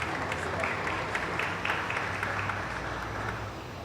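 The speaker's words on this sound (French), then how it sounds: "sous vos applaudissements" Steady, distant crowd applause fills a hall at an album launch event, a continuous wash of clapping with a low rumble beneath and faint voices mixed in.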